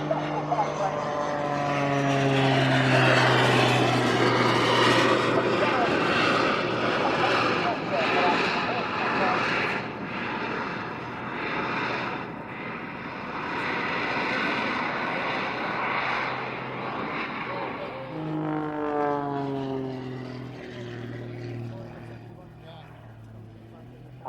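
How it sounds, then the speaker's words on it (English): A biplane's propeller engine drones loudly and continuously through an aerobatic display at the Southport Air Show, the pitch rising and falling as it swoops past, with a commentator talking over it. "Right, here is the special biplane."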